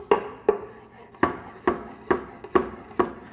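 Knife julienning a fire-roasted bell pepper on a cutting board: eight crisp, evenly spaced chops in steady rhythm, close and fairly quiet, with no talking.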